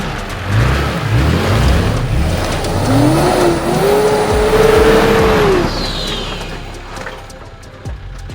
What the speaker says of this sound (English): Timmy's up. I'm sure he'll probably drive it